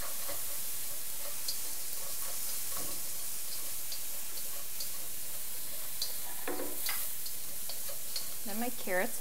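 Shallots, garlic and onions frying in a pan give a soft, constant sizzle with scattered utensil ticks. Brief voiced sounds rise near the end.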